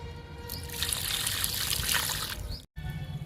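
Liquid fertilizer poured onto a garden plant, a steady close trickle and splash of liquid lasting a couple of seconds, cut by a brief silence, then quieter ambience.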